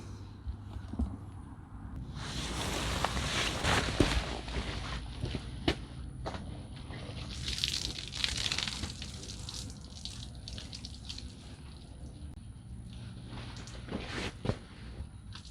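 A Rad Rover electric bike gets washed with soapy water and a cleaning cloth: wet splashing, wiping and dripping come in bursts, with occasional footsteps and small knocks, quiet and close.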